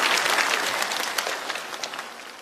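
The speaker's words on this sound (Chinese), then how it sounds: "掌声有请潘长江。" A comedy roast audience applauds to welcome Pan Changjiang onstage, a loud, sustained wash of clapping from a large crowd with no talk over it.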